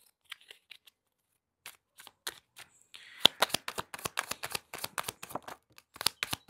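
Osho tarot cards are shuffled and flipped: first a few scattered soft taps and slides, then a fast run of crisp, close riffling clicks through the second half.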